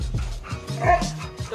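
A pet dog barks and yips in quick repeated bursts close by, with some whimpering mixed in, in a home setting.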